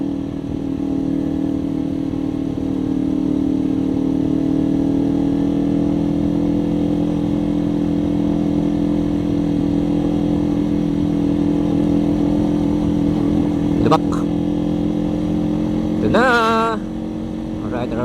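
A Kawasaki Ninja 500 SE motorcycle pulls along a highway, its engine holding a loud, steady drone that climbs gradually in pitch, with wind noise and a brief shift near the end.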